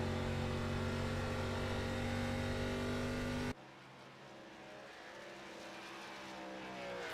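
An ARCA Series race car engine at Charlotte roars at a loud, steady high pitch, then cuts sharply as the driver clutches, dropping to a lower, rougher drone that slowly builds again.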